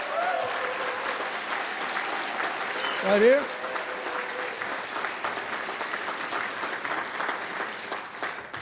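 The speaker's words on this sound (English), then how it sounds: "Give her a big round of applause." An audience claps for Congresswoman Barbara Lee, a moderate, steady round of applause that carries on throughout while a voice briefly speaks over it near the start.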